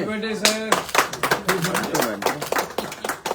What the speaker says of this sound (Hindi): ताली बजाइए